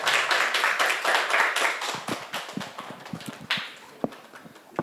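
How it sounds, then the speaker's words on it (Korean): Applause from a class of middle and high school students welcoming a guest lecturer, starting as brisk, full clapping, then thinning into scattered, uneven individual claps with a few sharp final ones. "우리 박수로 맞이해 봅시다"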